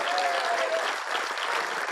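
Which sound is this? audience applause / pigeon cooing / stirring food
audience applause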